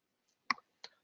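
Two sharp, faint computer mouse clicks sound about a third of a second apart in an otherwise quiet room.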